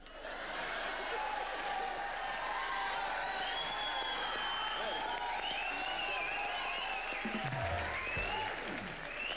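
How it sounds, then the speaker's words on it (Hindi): A studio audience at an Indian television comedy show, Comedy Nights Live, applauds with sustained, dense clapping that stays loud and steady before easing slightly near the end. "Mouni के लिए जोरदार ताली."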